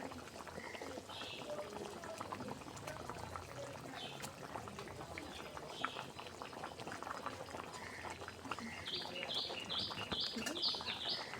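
Curry broth boiling in a pot, a faint, continuous bubbling and simmering hiss with light chirps of birds in the background.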